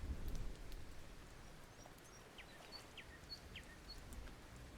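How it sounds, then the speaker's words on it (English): Gentle rain ambience in a virtual gazebo scene: a faint, steady hiss of rainfall with occasional soft bird chirps in the distance. "Perhaps bring the rain back a little."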